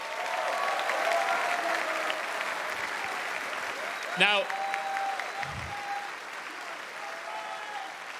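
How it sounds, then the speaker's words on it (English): An esports audience at the Six Berlin Major semi-finals applauds FaZe Clan with sustained, dense clapping from a large crowd. A single spoken word and a brief tonal sound cut through midway. "Round of applause for FaZe Clan."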